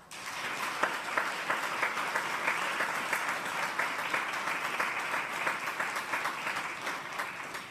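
Sustained audience applause at a defense agency award ceremony, steady dense clapping held at an even level throughout, with no voices over it.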